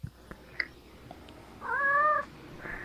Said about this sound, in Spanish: el gatito.